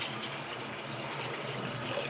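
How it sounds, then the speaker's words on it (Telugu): A glass of water streams steadily into a pan of chickpea and drumstick curry, a continuous close splashing rush lasting the whole moment with no voices. "ఇప్పుడు 1 గ్లాస్ వాటర్ వేస్తున్నాను."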